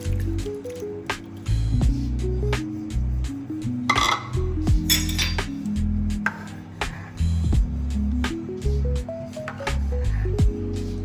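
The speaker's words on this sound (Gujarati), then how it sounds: "ત્યારબાદ તેમાં સાબુદાણા નાખી દઈશું" Sago pearls poured into a pot of milk for kheer, giving soft wet squishes and drips with light clinks of a utensil against the pot, steady and close throughout.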